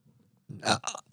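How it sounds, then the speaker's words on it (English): A person lets out a single loud, close burp in two throaty pulses, preceded by a faint low rumble and otherwise alone without talk. "You just burped that one right out."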